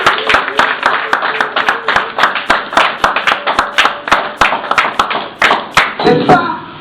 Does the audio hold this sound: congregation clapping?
yes